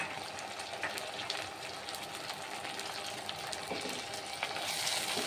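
Tomatoes hit a hot pan of frying onions for a pachai mochai kulambu, a steady, loud crackling sizzle that runs continuously with a few stirring scrapes mixed in.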